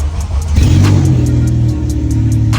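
A K24-swapped Honda Fit engine cranks and catches, then revs up loudly with a deep rumble before settling into a steady idle.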